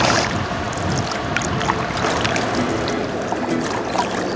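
A boat moving along the Danube river near Belgrade, with a steady, close wash of engine and water rush plus some wind buffeting throughout, and no voices.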